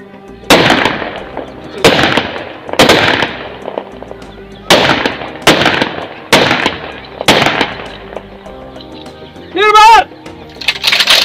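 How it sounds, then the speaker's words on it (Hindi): Gunfire rings out as a series of loud, sharp reports at irregular intervals of about a second each, echoing over a noisy outdoor background, with a brief warbling whistle near the end. "गोलीबारी फायर।"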